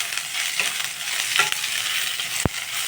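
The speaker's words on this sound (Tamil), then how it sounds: "புதினாவை சேர்த்துட்டு ஒரு வதக்கிட்டு ஒரு 2 நிமிஷம்" Onions and mint sauté in a hot pan for tomato rice, a close, busy sizzle with a few scraping stirs and one sharp knock near the end.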